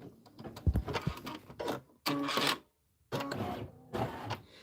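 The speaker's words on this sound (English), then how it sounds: "And then we're going to stitch the flower 2 centers" An embroidery machine stitches flower centers on a bunny-themed mini quilt, giving uneven clattering bursts with short gaps, moderately close and fairly quiet.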